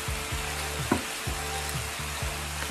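Genghis Khan lamb grilling at home in Hokkaido, a steady close sizzle broken by repeated scraping or turning sounds at a regular pace.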